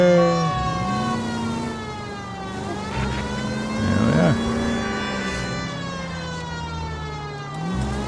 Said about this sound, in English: Love having the siren on just so we can get to our drink a little bit faster